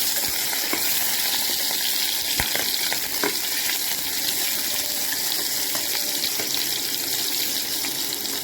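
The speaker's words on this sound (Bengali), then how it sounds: "আলুটা একটু ভাজা হচ্ছে" Potatoes fry in hot oil for ghugni with a continuous dense sizzle, close and steady, with occasional light clicks of stirring.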